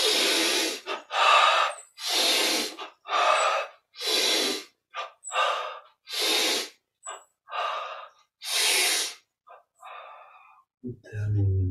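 Slow, deep breaths during a yoga exercise, with a series of about nine long, close inhales and exhales separated by short pauses, ending with a soft thump.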